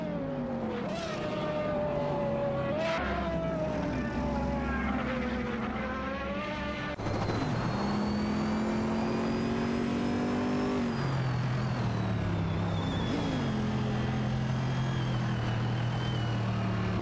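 Race car engines whine continuously in a racing video game, with high revving tones climbing and dropping through gear shifts, several cars layered together, loud and steady throughout.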